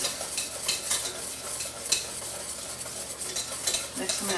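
A spoon stirring a hot syrup for a candied nut mix with vanilla in a pan, giving repeated scraping and light clinking over a faint sizzle, close and steady.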